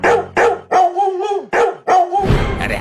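Cartoon dog barking in a series of five or six loud, close barks in an uneven rhythm, some drawn out into whining, howl-like tones, with a noisy scuffle at the end and no talk.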